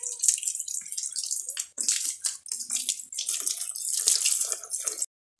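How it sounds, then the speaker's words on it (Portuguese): Water spraying hard onto a Honda Pop 100 motorcycle during washing, a bright continuous hiss and splatter close by with brief breaks, no talking. "eu já bati aqui a água na moto"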